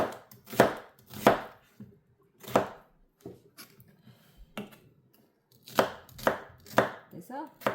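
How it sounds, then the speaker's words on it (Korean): A knife chops green onions and other vegetables on a board for a large batch of kimchi, with bursts of quick, sharp cuts in clusters, close and fairly loud, separated by short pauses and light scraping. "이렇게 다 야채 쓸어서 이쪽으로 담아줄게요"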